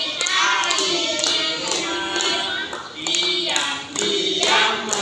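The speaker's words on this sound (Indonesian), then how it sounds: "Tepuk tangan dulu dong" Kindergarten children at an Islamic school in Cirebon clap their hands together in a dense, lively burst, close and loud, with children's voices singing and chattering over the clapping.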